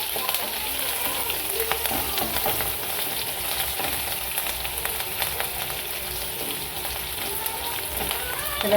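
Drumstick flower vegetable being sautéed in a pan, a loud continuous sizzle and crackle with stirring scrapes throughout, close and dense, no pauses.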